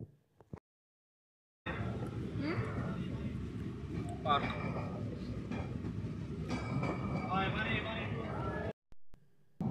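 A train rumbles steadily along the tracks, with a broad low roar and faint metallic rattles and squeals, continuous and fairly close.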